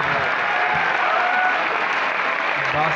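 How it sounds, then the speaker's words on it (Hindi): Audience applause for the poet Abbas Tabish at the Faisalabad literary festival 2023, a steady, dense wash of clapping from a large crowd lasting throughout, with a few voices faintly mixed in. "भरपूर तालियों में"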